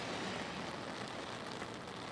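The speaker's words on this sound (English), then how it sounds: "Jen, the rain doesn't seem to be stopping." Steady rain falls outdoors in St. Clair Shores during a weekend storm, a constant broadband hiss with no gaps or voices, fairly close and even in level throughout the short stretch.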